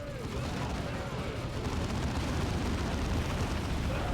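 Battle din from the video game Dawn of War 2 as a grenade is thrown at machine gunners, a dense continuous roar of explosions and gunfire, loud and unbroken throughout.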